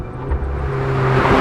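Tuned Alfa Romeo 4C turbocharged sports car driving on a race track, its engine a steady, close drone that swells slightly as it pulls, heard alone without talk.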